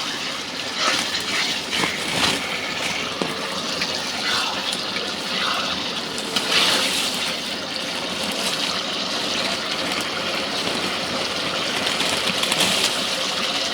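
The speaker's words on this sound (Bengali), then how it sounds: "মাংসগুলো সুন্দরভাবে কষিয়ে নিচ্ছি।" Chicken pieces are sautéed in a pan for a chicken and mung dal curry, giving a loud, dense, continuous sizzle with occasional stirring scrapes and no talking.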